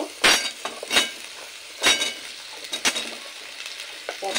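Potato and vegetables for a Bangal data chochori are stirred in a frying pan: sharp, intermittent spatula scrapes and clinks over a faint, low sizzle, with no speech.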